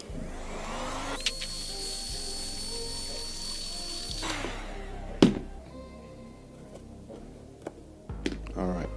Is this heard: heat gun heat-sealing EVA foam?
yes